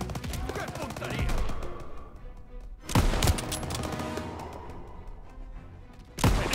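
Artillery and rifle fire in Call of Duty: WWII during a tank battle, with dense bursts of shots and two heavy booming blasts standing out over continuous battle noise.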